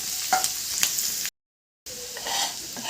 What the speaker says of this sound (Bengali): রসুন কুচি, আদা কুচি দিয়ে একটু কড়াভাবে করবো